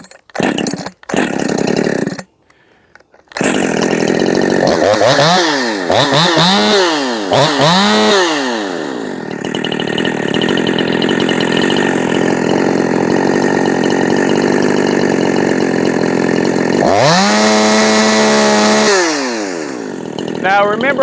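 A machined and ported Jonsered 2152 chainsaw fitted with a 24-inch bar sputters briefly, then roars loudly up close, revving up and down before holding a screaming high free-spin and revving again near the end.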